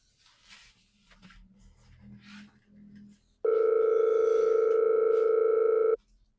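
A steady telephone dial tone sounds loud and clear for about two and a half seconds as a call is placed, after a stretch of quieter speech and background sounds.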